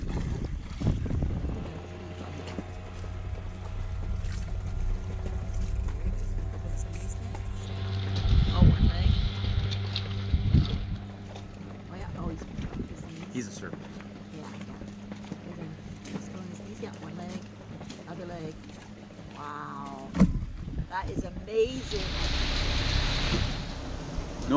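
A small 5 horsepower outboard motor drives a sailing boat in the Vava'u Group of Tonga, its steady engine drone and low hum running throughout alongside wind and water noise, with people talking over it.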